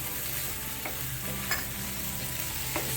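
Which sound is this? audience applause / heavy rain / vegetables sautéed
vegetables sautéed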